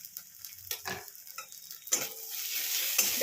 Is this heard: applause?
no